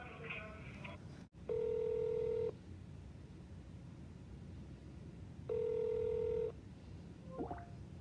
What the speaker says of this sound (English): calling on a recorded line for the superintendent's office